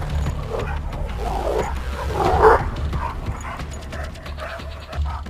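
Aggressive dog straining against a slip collar, strained throaty growls, wheezes and rough huffs close by, swelling to a harsher burst midway and then easing into lighter choked sounds.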